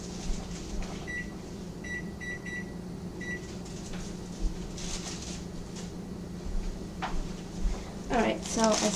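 A kitchen timer is set with several short electronic beeps in quick clusters while orzo cooks in boiling water, over a steady kitchen hum, with clattering and movement later.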